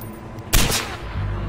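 A single sharp, loud gunshot bursts out in the video game Far Cry 4, followed by a short decaying tail and low game ambience.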